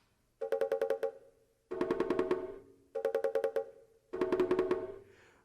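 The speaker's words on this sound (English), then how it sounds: "this is the sound of the bongo drum" A pair of bongo drums played by a seated player in four bursts of rapid hand strikes, each a quick run of bright, ringing hits separated by short pauses, close and clear with no talk.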